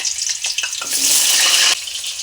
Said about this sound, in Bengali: এই সাদা তেলে আলুগুলি ভেজে নেব।